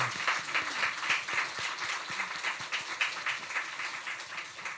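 Church congregation applauding during a Christmas Day worship service, a sustained wash of many hands clapping at moderate, steady loudness, with no voices over it.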